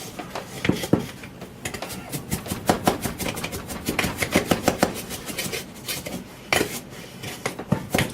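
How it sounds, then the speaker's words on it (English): Sugar stirred in a pot for coffee syrup, a metal spoon scraping and clinking rhythmically against the pot in quick, close strokes with short pauses between bursts. "let me stir some of that up for you"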